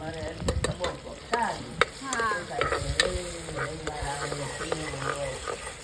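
Garlic added to softened tomatoes in a hot pan, a close bubbling sizzle with frequent scraping stirs and a few sharp knocks of a utensil against the pan.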